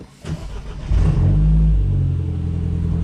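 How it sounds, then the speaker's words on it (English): A BMW 1 Series cold-starting up close: a brief starter crank, then the engine catches and flares loudly before settling into a steady, elevated idle drone. "first a cold start"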